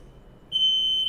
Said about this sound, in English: The fire alarm has been going off in my building all day.